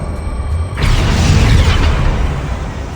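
A Depulso spell cast in Hogwarts Legacy: a sudden whooshing blast with a deep rumbling body, loud and close, swelling for about a second before tapering off.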